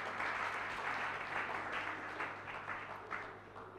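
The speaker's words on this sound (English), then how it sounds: "Clap your hand for Jesus." Church congregation clapping for Jesus during a Sunday morning service, a dense steady wash of many hands at moderate level, sustained through the whole stretch with no voices on top.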